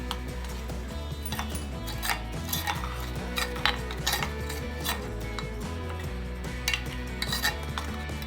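A spoon stirs besan batter with buttermilk, red chili powder, turmeric and salt in a bowl, giving repeated light clinks and scrapes in an irregular rhythm over a low steady background hum.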